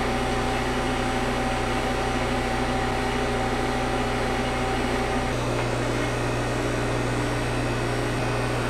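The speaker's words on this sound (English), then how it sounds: "right now it would be the cooling unit, the heaters, and the vacuum pump" A constant mechanical hum and whir from a freeze dryer's cooling unit and vacuum pump, with a steady motor drone that shifts slightly partway through.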